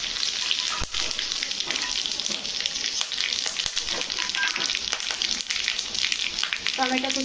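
Whole spices crackle in hot oil: panch phoron, cardamom, cinnamon, cloves and bay leaf. The sizzle is bright and continuous, with sharp pops scattered through it and a brief clink near the end.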